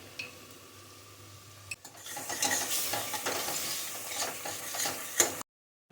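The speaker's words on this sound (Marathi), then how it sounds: "मसाला व्यवस्थित शिजवून घ्यायचा अगदी तेल सुटेपर्यंत" Chole masala spices with turmeric, garam masala and Kolhapuri chili powder sizzle in hot oil while a spoon scrapes and stirs the pan, a brief quiet start swelling into busy frying and clattering that ends abruptly.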